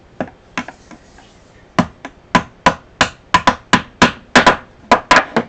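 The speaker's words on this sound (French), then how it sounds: "Voilà, le marteau." A hammer taps repeatedly on a 3D-printed plastic cover to knock the part loose, sharp close knocks, sparse at first, then a rapid irregular run of strikes.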